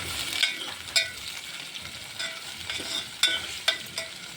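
Onion frying in a pan for pigeon pea dal with garlic paste, a soft continuous sizzle punctuated by several sharp spoon scrapes and taps as it is stirred.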